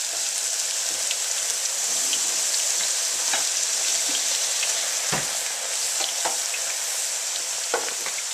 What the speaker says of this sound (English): Now we'll just go ahead and put these into the oil, and voila, homemade potato chips.